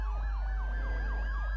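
Police car siren wailing in the Need for Speed Most Wanted 2012 racing video game, a loud, continuous rising-and-falling electronic wail over a heavy low engine drone, with no talking.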